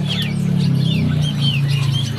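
Several thin, high chirps and short tweets come from a small munia bird at a bird market, scattered irregularly over a steady low hum of background noise.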